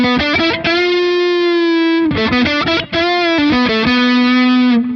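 Distorted electric guitar through the Primo amp sim with a noise gate, chugging sustained power chords with short choppy stabs and clean cutoffs between phrases, loud and alone.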